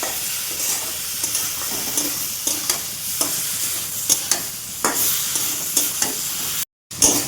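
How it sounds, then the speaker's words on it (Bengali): Spice masala being fried and stirred in a pan for fish head curry, a steady close sizzle broken by repeated scraping stirs, with a brief silent gap near the end. "এবার ভাজাটা সুন্দর করে মশলাটা ভেজে নেব।"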